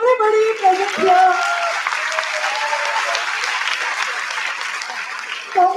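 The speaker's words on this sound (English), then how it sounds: "Let us all clap for everybody present here." An auditorium audience at a national camp award ceremony claps in a dense, sustained wash of applause, with a voice and a musical tone rising above it near the start and again at the end.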